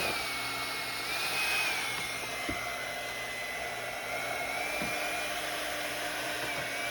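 A hair dryer blows steadily across watercolor-painted leaves in a fall journal, a continuous close whirring hiss with a slight rise and fall in pitch, accompanied by a couple of faint taps.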